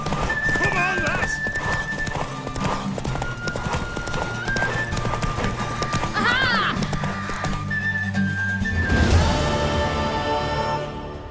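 Horse galloping in The Witcher 3, rapid clip-clop hoofbeats continuing throughout a race under crowd shouts and music, with a whinny near the end.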